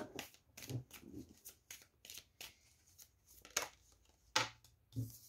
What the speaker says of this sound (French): Donc, on va tirer 3 cartes.